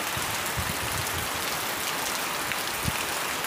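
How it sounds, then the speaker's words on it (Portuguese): Steady, dense rain pouring down on a farm, a constant broadband hiss with scattered heavier drops, no voices. "Mas veio a chuva, pô. Tava precisando."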